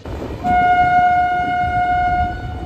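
The Barbil Jan Shatabdi Express sounds a long, steady horn blast as it pulls into Barbil station, loud and sustained over a low rumble of the train.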